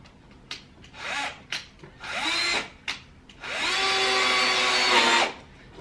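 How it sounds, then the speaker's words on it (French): A power drill boring in several short bursts and then one longer sustained run, whining with a rising pitch as it starts, heard close and fairly loud with no talking. "Et on perce."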